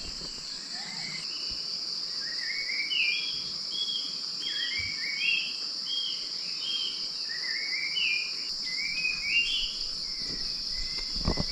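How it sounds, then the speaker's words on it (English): Birds call at dawn in a mountain village in Sulawesi, a series of short rising chirps repeating over a steady high insect drone and low background hum, moderately distant. "hear those birds. Those exact bird calls."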